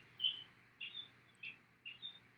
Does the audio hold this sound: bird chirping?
yes